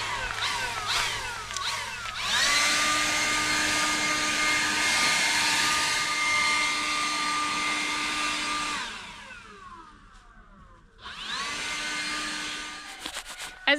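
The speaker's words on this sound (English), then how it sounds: "I'm gonna blow the leaves out of the way" A leaf blower clears leaves in a fall yard on an Alaskan homestead with a loud, steady, close roar. It drops away briefly, then surges back up.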